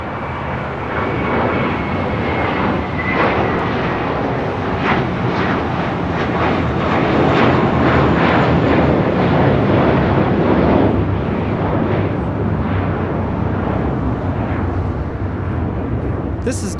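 A JetBlue Airways A321 airliner taking off at LAX, a loud, steady broadband jet roar that swells in the middle and holds, with wind rumble and a voice talking over it.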